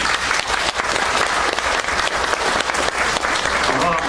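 An audience at a civic humanities ceremony applauds, a loud, dense wash of clapping that holds steady from start to finish with no break.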